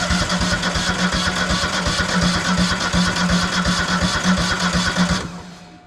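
A tractor engine is cranked with rapid, even starter pulses for about five seconds while a battery charger is connected, then the cranking cuts off abruptly into near silence. It never clearly settles into an idle.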